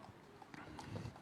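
Racehorse hooves clip-clopping at Auteuil racecourse as a horse is paraded before a race, irregular hoof strikes at moderate distance under a commentator's voice.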